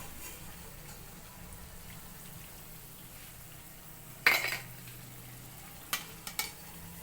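Flattened rice snack fries in a pan with a soft, steady sizzling hiss; a couple of sharp utensil clinks stand out near the end.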